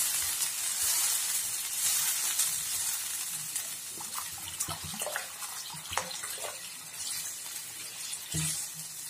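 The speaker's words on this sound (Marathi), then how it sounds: "पाणी टाकत हळूहळू हलवायचंय।" Water poured into a simmering pakoda curry (bhajyachi amti) while it is slowly stirred makes a close, continuous splashing hiss over sizzling oil, with soft spoon knocks scattered through.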